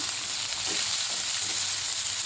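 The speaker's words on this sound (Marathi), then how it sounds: "चांगला परतून घेते तांबूस कलर येईपर्यंत" Finely chopped large onion sizzling steadily in a pan for vaal (field bean) bhaji, a continuous broadband fry hiss with no voices.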